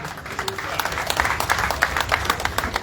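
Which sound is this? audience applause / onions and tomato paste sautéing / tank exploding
audience applause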